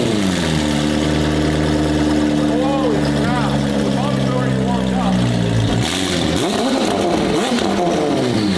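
A McLaren Senna hypercar fitted with an aftermarket exhaust, its engine droning loud and close in steady harmonic tones, then revving in rising and falling sweeps toward the end, with a voice talking over it.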